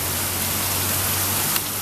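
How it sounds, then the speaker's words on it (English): Steady rain pours down during a strong thunderstorm in Wilmore, Kentucky, a dense continuous hiss with no breaks and no voices. "This is the second storm that's come through, or that is coming through currently."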